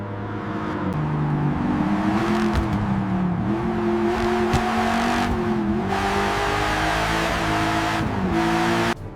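A 1966 Ford GT40 Mark II race car drives through a corner with a loud, continuous engine roar. The pitch dips and rises with each gear change and throttle lift over about nine seconds, with no talk.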